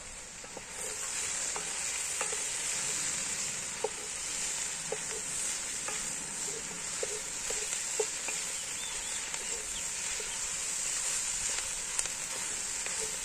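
Pork belly and onions fry in a Dutch oven over an open fire, making a constant bright sizzle broken by occasional stirring clicks and crackles.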